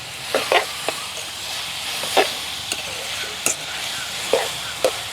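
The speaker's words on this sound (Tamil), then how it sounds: "வெண்டிக்காய் அழகாக பொரிஞ்சு வந்துட்டு இங்கே பாருங்க" Okra fries in a pan, a soft even sizzle and hiss with scattered sharp pops and stirring clinks spaced irregularly, fairly close and alone.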